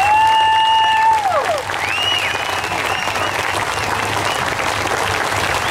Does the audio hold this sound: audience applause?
yes